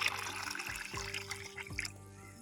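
Rice-washing water is poured from a container onto potted plants, a close, gentle trickle and splash of liquid with a few short pulses as the flow shifts.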